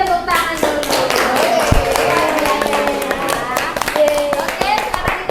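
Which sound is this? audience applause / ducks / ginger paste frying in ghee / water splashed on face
audience applause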